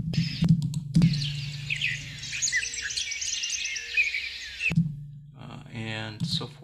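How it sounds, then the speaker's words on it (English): Mourning doves give repeated soft, low cooing calls at a middle distance, layered under brighter chirping from other birds, while a person speaks nearby at the start and end. "Those are the morning doves down in there."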